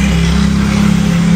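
A two-stroke Kawasaki ZX motorcycle engine idles loud and close, with a steady rough burble and slight rhythmic wavering, with no talk over it.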